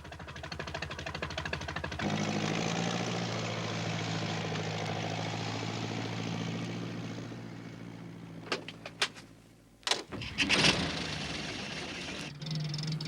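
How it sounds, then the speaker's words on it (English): A steady tractor engine idles close by for several seconds, then a few clunks and a brief louder burst of mechanical noise near the end. "It was Alf Thompson on his tractor."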